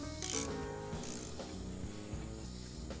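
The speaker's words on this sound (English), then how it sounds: "I am able to loosen and remove these bolts by bumping the heel of my hand against the socket wrench handle" A socket wrench works loose the brake caliper bolts on a 2015 Buick Encore. Its ratchet clicks and metallic knocks come close up and fairly faint, in quick uneven bursts.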